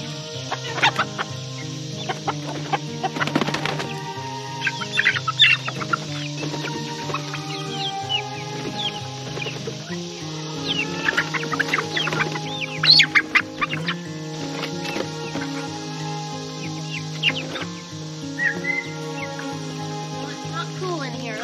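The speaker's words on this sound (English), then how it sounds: "I gotta kick all these little chickens out because they're gonna wanna just run out the door" Small chickens cluck and squawk repeatedly as they are let out of their coop. The sounds are close, busy and irregular, with a person's voice intermittently mixed in.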